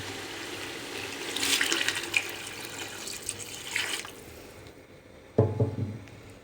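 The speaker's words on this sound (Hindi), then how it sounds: "तो इस स्टेज पर हम इसमें 3 गिलास पानी शामिल कर देंगे" Water pours from glasses into a pot of chicken pulao after the tomatoes have cooked down and the oil has separated, a splashing, running pour in bursts with a louder splash near the end.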